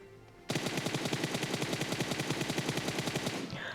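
A long burst of automatic gunfire in the mobile game PUBG Mobile, with rapid, evenly spaced shots firing without a break for about three seconds. It is loud and close, and it stops abruptly.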